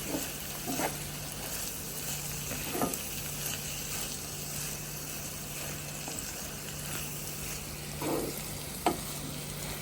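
Masala paste with meal maker (soya chunks) for a cashew masala curry being stirred in a pan, a steady close sizzle with intermittent scraping strokes of the spoon.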